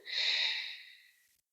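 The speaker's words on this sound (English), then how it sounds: "So inhale into this point and exhale out." Deep breath exhaled slowly and steadily during a guided energy-point breathing exercise, a single close, airy breath that swells quickly and then trails off over about a second.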